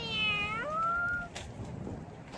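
A cat among children gives one long, close, wavering meow that bends downward in pitch, followed by quieter background noise.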